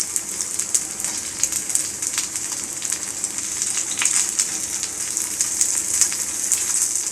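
Food for a fasting thali frying in a pan, giving a steady, close hiss of sizzling oil that holds throughout with small crackles and pops scattered on top.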